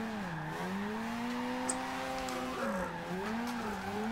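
A Mazda RX-7 engine in Forza Horizon 2 revs up and down in smooth swoops as it drifts through corners, a continuous whining drone with shifting pitch and no talking.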